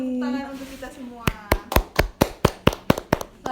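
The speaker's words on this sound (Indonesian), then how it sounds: "Tepuk tangan untuk kita semua." A classroom group claps in unison, roughly nine sharp, evenly spaced claps following a teacher's spoken call, loud and near.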